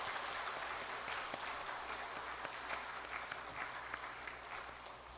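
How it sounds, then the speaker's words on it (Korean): A church congregation at a Korean Sunday service gives a big round of applause for the youth group, a dense, steady wash of clapping from the whole room that holds level and then eases off slightly. "우리 박수 한번 크게"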